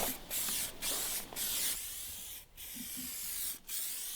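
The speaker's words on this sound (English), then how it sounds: "Literally spray itself all over the front of your vehicle." A colour-matched aerosol spray can spraying paint onto the front of a car, producing long steady hissing bursts broken by brief gaps where the nozzle is released, close and fairly loud.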